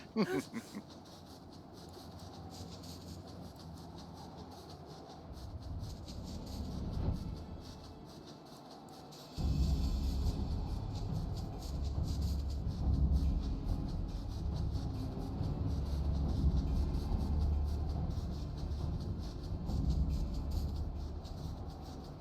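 Train rolling past in the Final Fantasy XIV video game, a low rumbling drone that swells and then holds loud and steady, with no talk over it.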